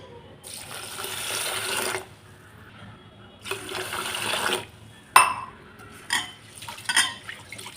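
Soaked rice being washed in water in a home kitchen for prawn biryani: two long bursts of sloshing, splashing water separated by pauses, then a sharp clink of a vessel and some shorter swishes, fairly close.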